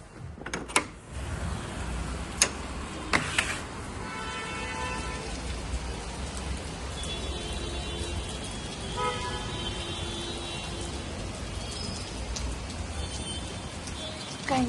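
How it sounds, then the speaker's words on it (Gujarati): Steady rain falls outside a home, a dense constant patter with a few sharp drops and occasional car horns and passing traffic in the background. "ચલો વરસાદ બતાવું તમને."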